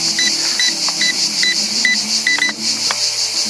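A Bayang X16 quadcopter drone (fixed edition) beeps in flight, repeating short high electronic chirps in a steady rhythm about every half second over a constant high whine of propellers.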